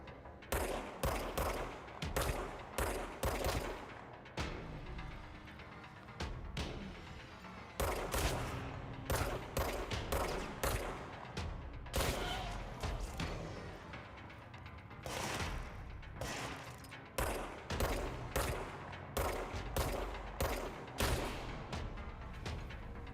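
Rapid gunfire from the video game Control, with repeated bursts of loud automatic shots and heavy booming impacts coming in clusters over about twenty seconds, without talk.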